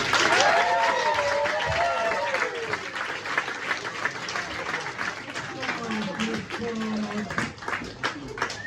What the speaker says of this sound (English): when I say ladies and gentlemen, you start the clapping quietly and get louder